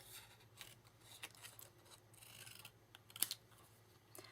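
Scissors snip through paper to trim a small stamped banner, giving a few faint, close, scattered cuts and rustles in a quiet room.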